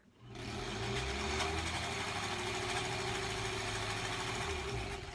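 A sewing machine stitching quilt fabric for a granny squares quilt block starts up and runs at a steady fast whir with a rapid mechanical pulse, close and continuous for several seconds.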